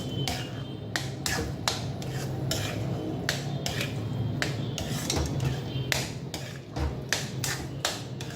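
Metal spoon repeatedly scraping and clinking against a pan while ghee is stirred into venpongal off the heat, a steady run of sharp taps and scrapes over a low kitchen rumble.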